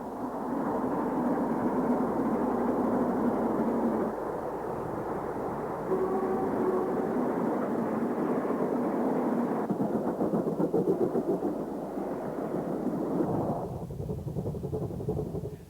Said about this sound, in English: Volume 1 begins at Birmingham Snow Hill Station, where we see the Stania 280 Class 8F mixing with some ex-Great Western steam locomotives.